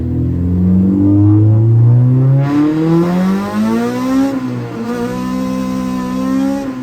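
A K-series Honda Civic engine revs up through the gears while driving at night, its pitch rising loud and close in two long climbs with a brief dip between them, no voices over it.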